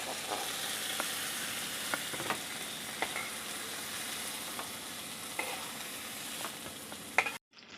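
Prawns fry in oil in a pan with a continuous soft sizzle, and a spatula stirs or scrapes them every second or so. A louder clack comes near the end before the sound cuts out.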